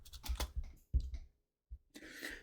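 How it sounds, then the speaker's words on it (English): Soft clatter of fingers typing on a computer keyboard, quiet and close, in two short bursts of rapid key taps separated by a brief silent pause. "He was typing seahorse sex."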